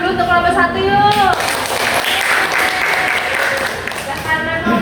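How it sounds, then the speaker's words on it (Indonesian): A classroom breaks into applause for a student group, a dense burst of many hands clapping that follows a voice and fades toward the end. "kita beri tepuk tangan dulu untuk kelompok 1 yuk"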